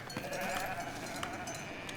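Sheep bleat on a farm in the medieval city-building game Foundation, a faint, drawn-out cry sitting over a constant hum of background game ambience and music.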